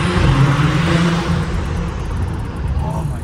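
An SUV engine with a catless downpipe and stock exhaust roars loudly and steadily for a few seconds, a dense close rumble with a slight waver in pitch.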